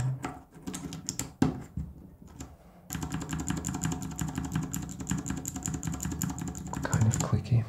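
Mechanical keyboard fitted with Cherry white switches being typed on, a string of quick clicky key presses, sparse at first and then in a dense, continuous patter, close to the microphone.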